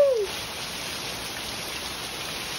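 Heavy rain falls as a steady, even wash of broadband hiss throughout, loud and continuous, with a brief faint whistle-like tone at the very start.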